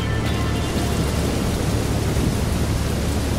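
In the video game Shadow Warrior 2, steady heavy rain pours with a deep rolling rumble of thunder underneath, continuous and loud throughout.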